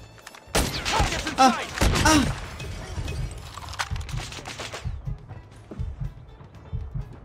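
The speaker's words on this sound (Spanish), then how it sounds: "Obviamente, son tiros para darle más emoción a la partida" Gunfire from the mobile shooter Call of Duty Mobile crackles in sharp bursts early on, followed by scattered mechanical clicks and softer in-game sounds, with a person talking over parts of it.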